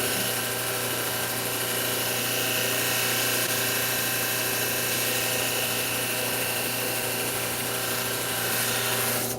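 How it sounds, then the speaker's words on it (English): A thunderegg core cabochon being polished flat on a round lapidary wheel: a continuous, even mechanical whir and grind at moderate level, steady throughout with no pauses and no voices. "Always fun trying to polish a flat surface on a round wheel too."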